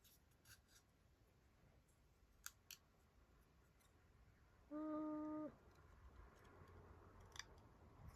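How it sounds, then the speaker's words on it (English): Scissors cutting out small paper shapes at close range, quiet soft snips and a few sharp clicks in a hushed room, with a brief tonal beep midway, no talking. "Cut this one out."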